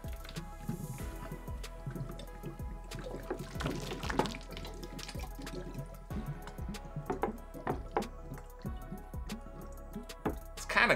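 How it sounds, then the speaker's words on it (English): Water gurgling through a homemade tornado-in-a-bottle vortex, a string of irregular glugs, drips and squishy bubbling pops, close and soft. "It's kind of gurgling a little bit."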